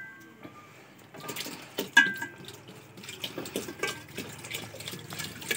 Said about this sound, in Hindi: इतना सारा पानी डालना है?